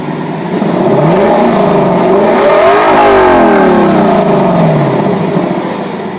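A 2019 Lexus LC 500's V8 engine revs up through rising gears and then falls back, loud and close, its tone sweeping upward and back down over several seconds with no talking.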